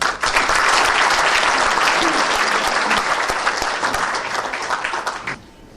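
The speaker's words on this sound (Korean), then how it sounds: "환영의 박수 부탁드립니다." An audience applauds loudly to welcome a speaker at a lecture, a dense steady clapping that fills the room for several seconds before tapering off abruptly.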